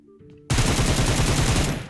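After a brief quiet moment, a loud burst of rapid automatic gunfire erupts and continues steadily to the end.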